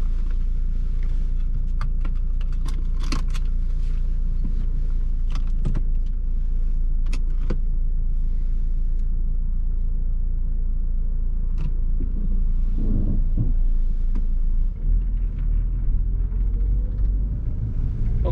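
BMW E46 Ti car on a short test drive, a steady low engine and road rumble from inside the cabin with occasional clicks and light rattles, swelling slightly toward the end.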